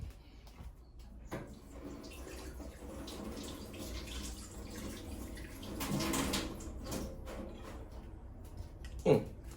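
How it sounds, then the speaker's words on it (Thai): Parts of a Staresso SP300 51mm bottomless espresso maker are rinsed under plain running tap water, a steady hiss of water with faint splashing and clatter that swells briefly near the end. "ผมก็จะเอาไป ล้างน้ำก๊อกธรรมดาเลยครับ"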